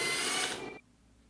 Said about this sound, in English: Here I'm using my impact driver to unscrew the right side screw, and now I'm unscrewing the left side screw.